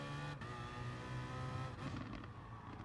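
A race car on worn tyres in a racing video game pulls into the pits, its engine a steady, loud mechanical drone with a brief dip, without talk.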